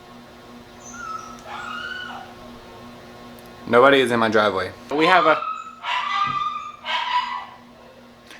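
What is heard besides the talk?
dog whimpering and yipping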